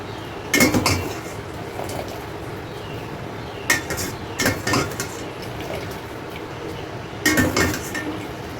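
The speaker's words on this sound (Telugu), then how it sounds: "ఇప్పుడు చూడండి ఈ రైస్ని అంతా దీంట్లో వేసేసుకుంటున్నాను." Cooked rice for chicken biryani tipped into a pot, heard as several clattering bursts of a utensil knocking and scraping against the metal pot, separated by quieter stretches of room noise.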